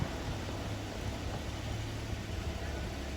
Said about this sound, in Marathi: Accelerator they.